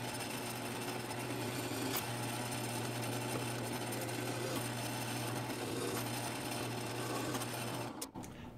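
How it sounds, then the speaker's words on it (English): Steel enclosure panel being drilled with a power drill, a steady loud motor whine with grinding bit contact running continuously for about eight seconds before stopping abruptly near the end. "the next trick will be to drill out all the holes on the front"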